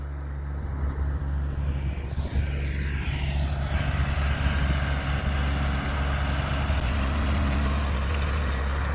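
A tractor pulling a bush hog runs nearby with a heavy, steady engine drone and a rumbling low end that holds unchanged throughout, with no voices.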